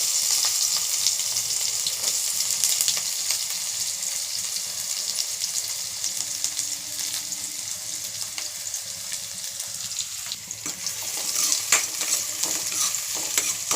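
Two onions fry with cardamom, cinnamon, cloves, fennel seeds and a bay leaf in a pan, giving a constant loud sizzle with occasional stirring, and no voice is heard.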